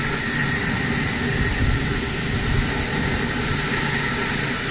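A pressure washer sprays down the engine bay of a 1971 Dodge muscle car found in a barn, giving a loud, steady broadband hiss that runs unbroken throughout.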